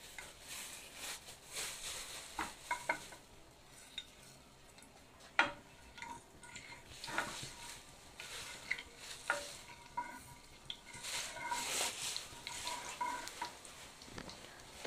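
Cumin seeds frying in oil for a paneer samosa filling, a quiet, fine crackle with scattered small pops and light ticking taps of a spoon, faint and close throughout without speech.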